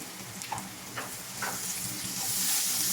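Hotdog sizzles and fries in a pan with onion and pepper, a steady close crackle and hiss with a few soft stirring scrapes, rising slightly toward the end.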